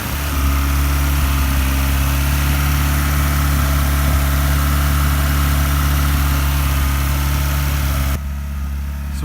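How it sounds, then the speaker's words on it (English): A Peugeot 106 GTI engine idles steadily just after being restarted, a loud, continuous low rumble with constant vibration that drops slightly in level near the end. "I'll leave it tick over for 10 minutes just to make sure nothing's actually gone on the engine"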